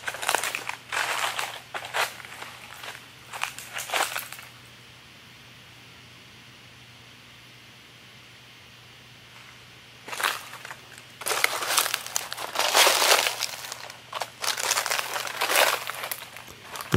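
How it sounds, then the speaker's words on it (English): Footsteps crunch loudly on dried magnolia leaves at an old ghost town, bursts of crackling steps, then a quiet pause, then more close crunching walking. "I apologize for the crunchiness of these dried leaves from the magnolia tree"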